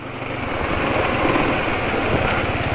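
A steady Caterpillar diesel truck engine, running on Fuchs Titan Truck Plus 15W-40 oil, idles evenly close by, with a continuous rumble and a rough, buzzing texture and no pauses throughout.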